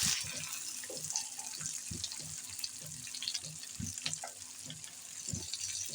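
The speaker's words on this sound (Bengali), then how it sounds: "পেঁয়াজটাকে লাল লাল করে ভেজে নেব।" Onions frying in a pan with a cardamom pod and cinnamon pieces, cooked until reddish for an egg bhuna curry: a steady close sizzle with scattered crackles and soft spatula scrapes, no talking.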